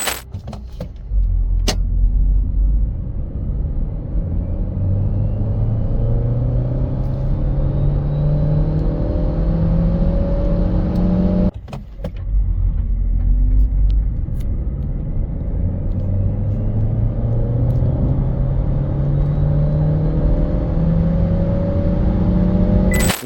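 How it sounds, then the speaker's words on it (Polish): A Dacia Jogger Hybrid engine rises steadily in pitch as it accelerates to 100 km/h, climbing through gears with a brief dip midway before building again; loud and continuous, no talk. "Przyspieszenie do pierwszej setki w wymiarze 10 sekund"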